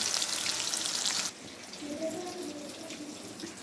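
Chicken pakoda frying in hot oil gives a loud, continuous bubbling sizzle that drops suddenly to a softer, steady hiss partway through.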